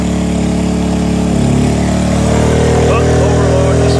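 A small WEN 56235i inverter generator runs under heavy load with a loud, constant, close engine drone that rises slightly in pitch partway through.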